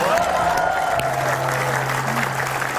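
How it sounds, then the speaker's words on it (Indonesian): Studio audience clapping on an Indonesian talk show set, a moderate steady patter lasting a few seconds with some tonal hum and faint background noise underneath. "tepuk tangan nggak apa-apa, tepuk tangan aja"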